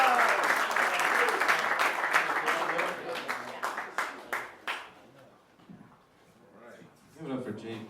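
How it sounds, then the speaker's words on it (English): Comedy club crowd at Underground Laugh Lounge in Niles, Michigan claps loudly and densely, then thins into scattered individual claps that fade out, before a short burst of noise and talk returns at the end. "welcome with a big Niles round of applause, Mr. Alden Shaw."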